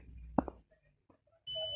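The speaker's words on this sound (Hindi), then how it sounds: "ये देखें बीप साउंड आ रहा है।" A multimeter set to buzzer continuity mode, probing a white wire during a Toyota Land Cruiser wiper motor repair, gives a steady, clear electronic beep that sounds alone and holds to the end, after a few faint probe clicks and handling knocks.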